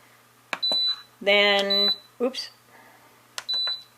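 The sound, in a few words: Instant Pot control panel beeping as buttons are pressed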